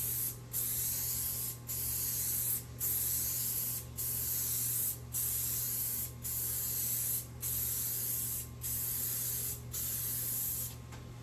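A spray can lays a coat of finish on upper cabinets in a 1964 Airstream Globetrotter trailer, giving about ten steady hissing bursts in regular rhythm with brief gaps between them, close and loud, with no talking.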